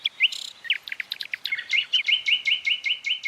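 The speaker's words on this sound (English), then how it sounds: "The song of the nightingale, one of the most beguiling sounds in all nature." A nightingale sings a clear, close series of bright chirps and whistled phrases, ending in a rapid repeated trill, with no other sounds.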